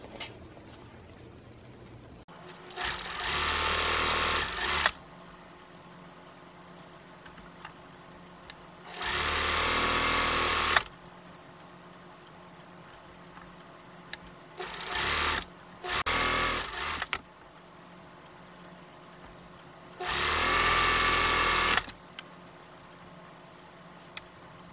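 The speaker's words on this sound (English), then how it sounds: "we're going to be sewing along the long edges" Sewing machine stitching jelly roll fabric strips into pairs along their long edges, running in four or five short bursts of a few seconds each, separated by quiet pauses.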